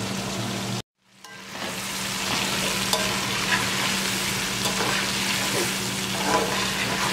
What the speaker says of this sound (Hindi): इसको 5 से 10 मिनट तक भूनेंगे चिकन को अच्छी तरह